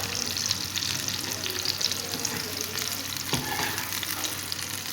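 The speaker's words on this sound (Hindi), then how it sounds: "अब मैं इसमें प्याज डालूँगी, और मैं इसको लाइट सा गोल्डन ब्राउन कर लूँगी प्याज़ों को।" Onions fry in hot oil in a pan for an eggplant bharta, a steady close sizzle with occasional stirring and a faint watery clink, no talking.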